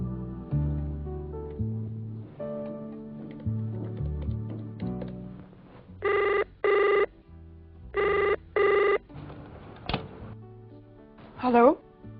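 Close electronic double rings of a telephone, two paired bursts in a row, following a run of musical notes, with a voice briefly heard afterward.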